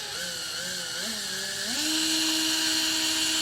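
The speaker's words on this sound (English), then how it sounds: "Just drill straight in here." A small drill bit whines steadily as it bores out plastic rivets on a 2015 Jeep, its pitch wavering and then rising to a higher, stronger tone as the motor speeds up, close and continuous.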